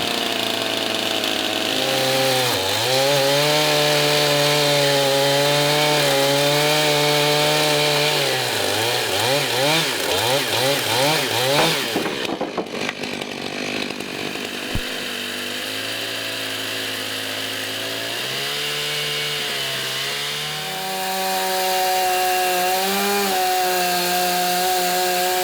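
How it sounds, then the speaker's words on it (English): Power saw revved and cutting, a loud engine whine rising and falling in pitch as it bites through the material, dropping briefly before revving up again for a sustained run. "Well, let's rev it up and cut that."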